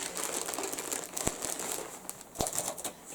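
Dry plastic crinkling and rustling as a yarn parcel is opened up close, with a couple of sharp clicks and no talking.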